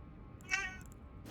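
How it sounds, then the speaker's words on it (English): A single short cat meow rises near the middle of the moment during a grooming session, fairly quiet and close against a low steady background hum. "Meow."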